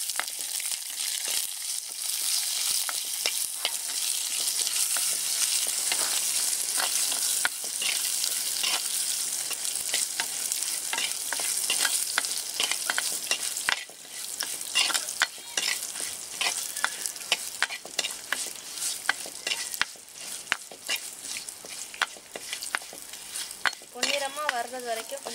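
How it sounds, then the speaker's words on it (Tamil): Citron leaves sautéing with pepper in a pan, a loud, continuous close-up sizzle with constant scraping stirs and small utensil clicks running throughout, with no talk. "இப்போ நல்லா வதக்கி விடணும்"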